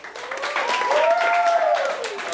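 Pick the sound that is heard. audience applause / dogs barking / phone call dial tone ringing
audience applause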